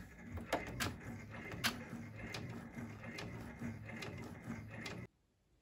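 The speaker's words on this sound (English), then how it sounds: "And then we'll put that down and we'll let it stitch" An embroidery machine stitching an appliqué works with a steady, quiet mechanical whir and rapid rhythmic clicking of the needle, with occasional sharper ticks, before stopping abruptly near the end.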